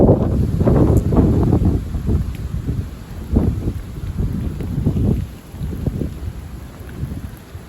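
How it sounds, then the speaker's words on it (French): Strong northwest wind gusts roar against the microphone outdoors in stormy winter weather, a loud, continuous buffeting that swells and eases in repeated waves with no voices. "Ah ça y est, les rafales progressent."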